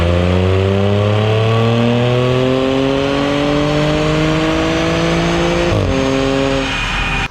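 A car engine revs hard on a dyno during a power run on Chevron 94 pump gas, loud and steady with a rising pitch that climbs for several seconds before the throttle closes near the end.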